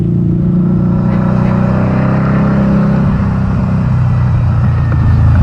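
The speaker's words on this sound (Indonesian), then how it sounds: "Ini pakai knalpot Fenshine Competition" A Harley-Davidson V-Rod Muscle 10th Anniversary 2012 motorcycle with a Fenshine Competition dual exhaust, a loud, deep continuous engine rumble while riding, steady and close throughout, with no talking.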